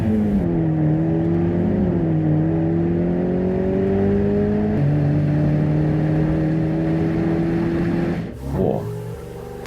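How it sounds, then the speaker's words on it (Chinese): Sports car pulling out of a garage in a toy short film, a loud steady engine drone with gear-like pitch steps, rising and shifting, then a sudden roaring whoosh as it speeds off near the end. "当晚我直接把他的跑车开出风扬车棚，"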